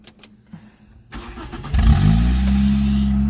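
A 1989 Nissan Sentra engine that stalls whenever it is put in gear. Faint clicks come first, then the motor catches and rises to a loud, steady near-field rumble that settles into a running drone.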